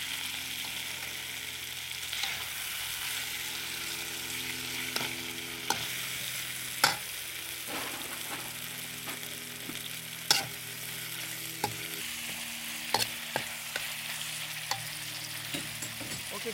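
Beef bulgogi stir-frying in a pan with onion and sauce, a steady close sizzle with scattered clicks and scrapes of stirring throughout.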